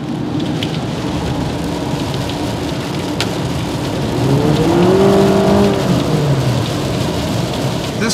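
Steady, dense rain patter and hiss heard from inside a 2013 Honda Accord EX-L near the side door, a constant wash that swells slightly midway, with a faint low tonal whine passing through.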